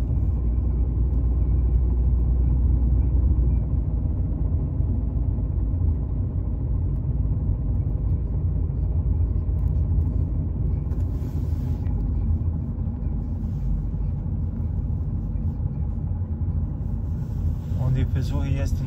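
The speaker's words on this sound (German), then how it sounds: "Wenn man den Wagen rollen lässt, besonders ersten oder zweiten Gang," Ford 1.6 TDCi diesel car coasting in first or second gear, a steady low engine rumble with a faint rattling clatter running underneath, close and continuous throughout.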